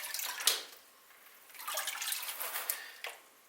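Water swishes and sloshes in a gold prospecting pan as the top material is washed off. Soft, uneven surges rise and fall over a few seconds.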